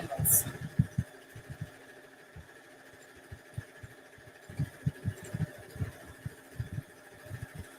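A sewing machine stitches down a quilt in quick, irregular bursts of soft thumping pulses, close and fairly quiet.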